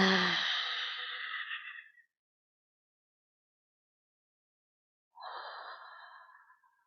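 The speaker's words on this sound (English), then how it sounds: "Inhale into your abdomen. Exhale to your mouth." Slow, deep breaths during a hatha yoga session: one long audible exhale through the mouth trails off, then after a pause of silence a second softer breath begins and fades.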